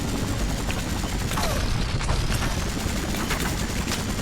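Helicopter gunfire and missiles in the Spider-Man 3 video game, a dense, unbroken roar of rapid fire and explosions that stays loud and even from start to finish.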